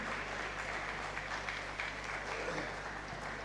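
Audience applause for the Vice President at a film festival and annual film lecture event, a steady wash of clapping from a crowd filling the room at moderate distance, with a low steady hum running underneath.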